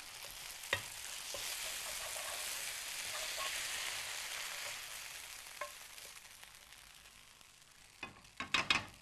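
Cubes of fish kebab sizzle steadily as they pan fry with vegetables. The soft, continuous crackle is close by, with a few sharp clicks of utensils on the pan toward the end.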